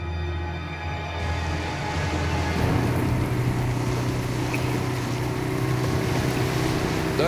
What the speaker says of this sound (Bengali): বোট থামাও।